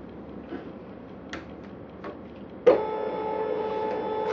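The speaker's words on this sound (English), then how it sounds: "I'm going to turn my Cricut machine on." A Cricut cutting machine powers on: after faint ticking, a sudden click gives way to a steady mechanical hum with soft whirring tones, close by.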